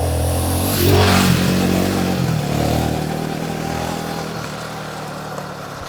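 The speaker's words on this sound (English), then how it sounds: "I'm having a lot of fun on the Royal Enfield Himalayan." A Royal Enfield Himalayan motorcycle rides over a broken, rough road in monsoon Karnataka, its engine revving up and then droning along loud and close under rushing wind, with no speech.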